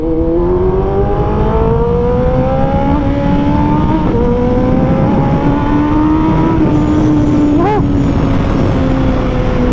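A Kawasaki ZX14R sport bike engine roars loudly and close, its pitch climbing steadily through several long pulls and briefly rising again near the end.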